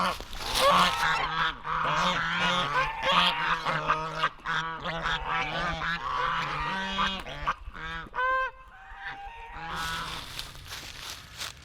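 Loud, persistent honking from a flock of geese nearby, overlapping calls repeating steadily for several seconds before briefly thinning out.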